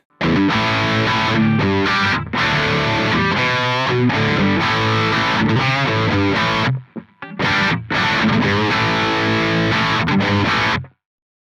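An electric guitar through a Line 6 Firehawk FX processor with mids boosted around 1.1–1.2 kHz plays distorted chords and single-note lines with a thick midrange tone, loud and continuous with a brief pause midway.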